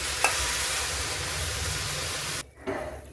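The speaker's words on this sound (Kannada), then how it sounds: "ಇದರಲ್ಲಿ ನಾನು ಮಾಡ್ಕೊಂಡಿರೋ ಪಾಕನ ಹಾಕ್ಕೊತಾ ಇದ್ದೀನಿ" Sugar syrup poured into roasted semolina in a pan over low flame makes a loud, continuous sizzling hiss that cuts out abruptly near the end, followed by a brief clatter.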